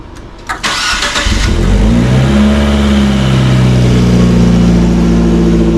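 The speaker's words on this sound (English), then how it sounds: "and then we're going to turn on the car." A Fiat 124 engine cranks briefly, catches and roars to life with a loud rev, then settles into a steady idle up close.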